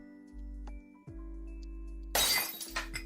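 Glass shatters suddenly with a bright crash and tinkling fragments, set against a steady electronic hum and low drones at home. The break lands near the end and rings out briefly.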